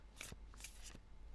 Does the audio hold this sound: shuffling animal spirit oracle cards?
yes